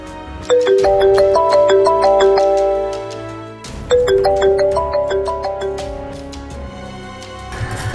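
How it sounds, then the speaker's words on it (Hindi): A mobile phone ringtone plays a bright, repeating chime melody twice, loud and close, with a brief pause between the two phrases and no talking over it. "एक फ़ोन आया"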